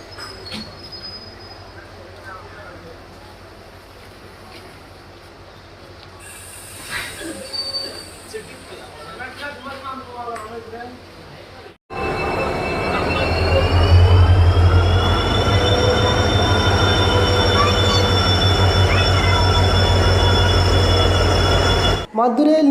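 A Rameswaram passenger train pulls into the first platform of Rameswaram railway station, quiet rumbling at first, then a loud, sustained engine roar with tonal whining for about ten seconds, close by.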